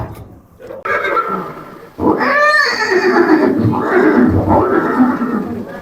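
A horse, the legendary war steed Chetak, gives a loud, near whinny that rises and falls, with snorting and grunting after it in a dramatic historical scene about the battle of Haldighati.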